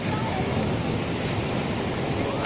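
Ocean surf washing onto a beach at night in Baler, a steady broadband wash of waves with some wind noise, continuous and fairly loud with no clear breaks.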